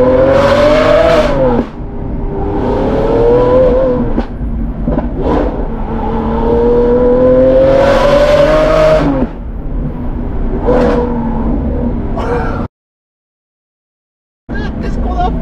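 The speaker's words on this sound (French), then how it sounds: "tellement la voiture fait un bordel monstrueux" A Lamborghini fitted with a straight-pipe exhaust revs hard and pulls away, loud rising engine howls in repeated bursts with gear changes, then a brief cut to silence before the roar returns; voices are heard faintly beneath.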